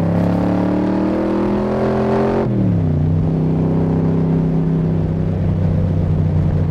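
A 1965 Shelby Cobra replica (Superformance MkII) engine drones loudly at steady cruise, its pitch dropping sharply partway through as the car shifts up, then settling into a lower sustained rumble with no talk.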